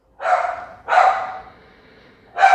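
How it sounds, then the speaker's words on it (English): A dog barks three times nearby, loud single barks with short pauses between them and no other sound. "let me just have Brewster stop barking"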